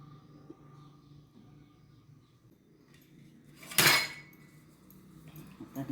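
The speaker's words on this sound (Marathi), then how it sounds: "या भांड्यांना तेल लावून घेऊ।" Metal pots and plates being greased with oil for steaming bhagar dhokla, mostly quiet handling with one sharp, loud metallic clatter partway through and a softer knock near the end.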